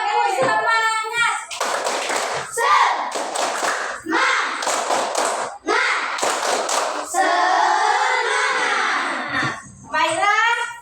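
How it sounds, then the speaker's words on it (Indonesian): A classroom of children performs the rhythmic tepuk semangat clap, bursts of patterned clapping and thumps alternating with a teacher's voice and children chanting along in short energetic phrases. "kita tepuk semangat yuk semuanya"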